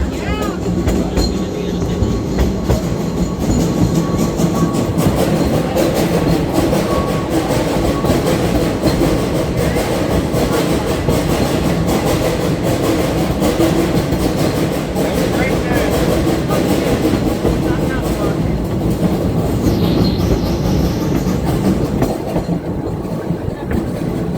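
A steam museum train climbs a grade of better than 6%, the steepest rail grade in Indiana, near LaPorte. It gives a steady, loud rumble with clickety-clack of wagons throughout, and some talk mixed in.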